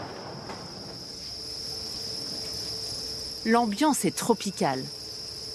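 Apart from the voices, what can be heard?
crickets chirping in an insect farm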